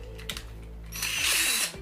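Screw driven with a 2.5 mm screwdriver into an Arrma Kraton 8S EXB RC car, a few close clicks followed by a longer grinding, whirring turn that tightens the screw, with no speech.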